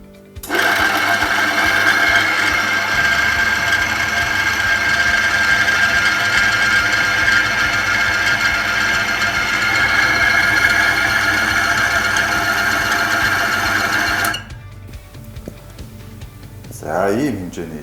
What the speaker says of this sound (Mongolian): За одоо энгийн 5W30 гэсэн тостой 3 тухайтай хөдөлгүүр хэрхэн ажиллаж байгааг туршиж үзцгээе.